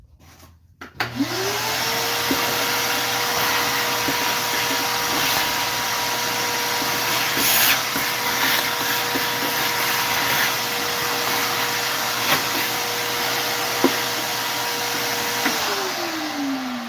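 A workshop vacuum with a nearly full bag switches on, whines at a steady loud pitch for over ten seconds, then spins down, with small clicks and knocks along the way.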